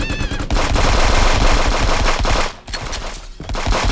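Video game gunfire bursts in loud, rapid automatic volleys, nearly continuous with a brief pause, close and harsh.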